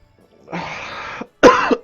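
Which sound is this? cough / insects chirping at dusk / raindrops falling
cough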